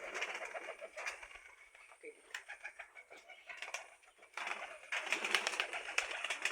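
Pigeons coo softly in a loft where the birds are kept for sale, with low, rolling calls that keep coming through the clip, and human voices and handling noise mix in now and then.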